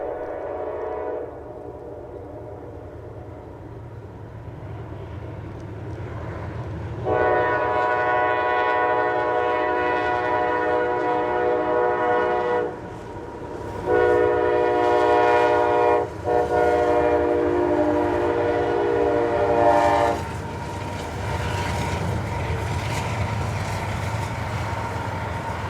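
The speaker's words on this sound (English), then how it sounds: "B657 disturbs the peaceful winter silence as they roll south through the beautiful Clinch River Valley" CSX freight train B657 rolls south through the Clinch River Valley in winter on the Kingsport Sub, a low continuous rumble under several long, loud horn blasts with brief pauses between them.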